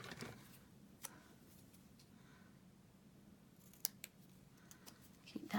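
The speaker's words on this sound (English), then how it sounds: "let's cut a piece of this" Scissors snip through a piece of paper in a quiet room, leaving a few faint, sharp, scattered cuts over low background hiss.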